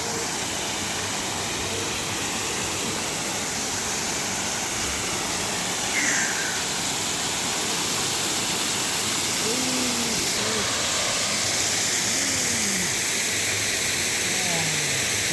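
Steady broadband rushing of a waterfall in the Blue Mountains fills the whole stretch, with voices talking faintly over the constant roar.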